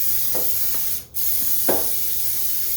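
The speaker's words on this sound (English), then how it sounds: "I'm going to spray it with some butter spray" Butter cooking spray is misted onto a loaf pan, heard as a short broadband hiss burst, preceded and followed by faint brief sounds near the counter.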